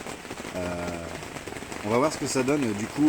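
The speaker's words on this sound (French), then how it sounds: "bonne averse, ça peut réoxygéner l'eau et ça peut donner des bons résultats" Steady rain pours down at a carp fishing pond, a constant wash of patter running beneath someone speaking French close by.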